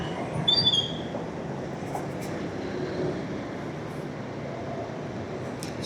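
A Pune Metro train at Kalyani Nagar metro station, heard from a passing motorbike on the road, makes a steady broad rumble with a brief high wheel squeal near the start.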